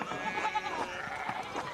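Sheep bleating in a farmyard pen, several wavering cries close by over a quiet outdoor background, with no talk over them.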